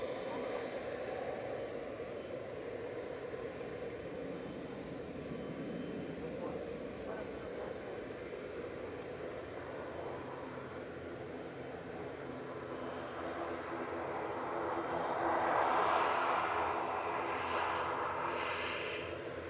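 An ATR 72-600 turboprop departs Manchester Airport, heard as a steady broadband engine drone from the field that swells louder toward the end as it climbs away, with occasional speech over it.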